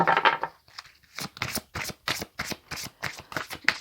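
Oracle cards being shuffled by hand up close, a quick series of soft, papery riffles and snaps in an even rhythm, with no talking.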